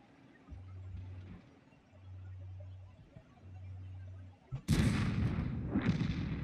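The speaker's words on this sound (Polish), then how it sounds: "Pierwszy piękny strzał, drugi piękny strzał." Tank guns fire in a World of Tanks battle, with Hetzer tank destroyers involved. Under a low engine hum, a sharp, loud blast erupts and trails into a rumbling decay, followed by a second report.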